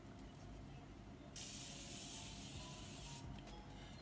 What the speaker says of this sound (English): Today we're gonna be using this continuous mist setting spray by Morphe